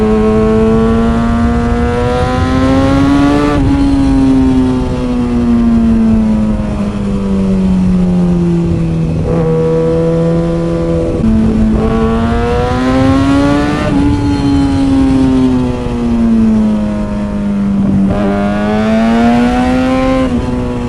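A small motorcycle engine revs repeatedly, loud and close, its pitch climbing and falling in several long waves with no talking over it.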